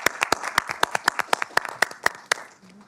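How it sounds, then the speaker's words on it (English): Audience applause for panelists at an expo panel session, a short round of sharp, fairly close hand claps in a quick uneven rhythm that tapers off after a few seconds. "Let's give a round of applause to our panelists."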